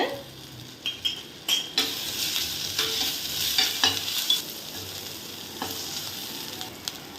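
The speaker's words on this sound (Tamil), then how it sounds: "நல்லா கோல்டன் ப்ரௌன் ஆகிற வரைக்கும் இதை நல்லா வதக்கிக்கலாம்." Onions sautéing in hot oil with ginger-garlic paste for a Tamil egg gravy, a steady close sizzle broken by repeated scraping and clinks of a spoon stirring against the pan.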